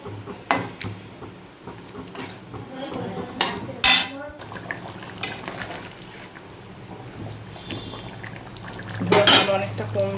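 Large sarputi fish pieces being turned in a pan of simmering curry with a metal utensil, sharp clanks and scrapes against the pan over a soft bubbling background.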